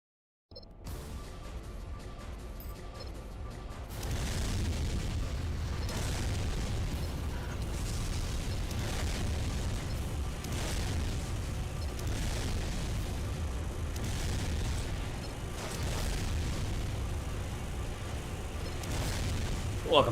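Upgraded grenade launcher fire in Armored Core Silent Line gives a dense, continuous run of booming explosions and deep rumble that lasts for many seconds, loud and relentless with little pause.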